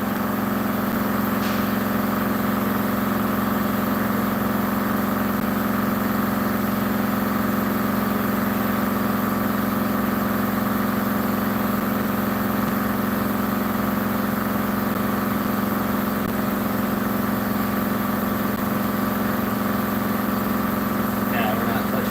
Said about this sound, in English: Compressor's always running.